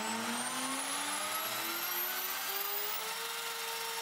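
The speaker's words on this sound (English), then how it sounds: "Last candidate is the 900 watts device that has an internal speed control same as the low power motor, but this one works." A 900 watt spindle motor with internal speed control runs steadily at its lowest speed of about 8000 rpm, giving a continuous high whine that rises gradually in pitch over an even, unbroken mechanical hum.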